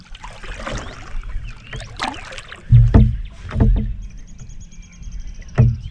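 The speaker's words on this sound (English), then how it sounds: "I'm just gonna do a little paddle up to where the wind's coming from" Kayak paddle strokes on a lake on a calm morning, close and irregular: water swishes and drips, with a few hollow knocks of the paddle against the hull.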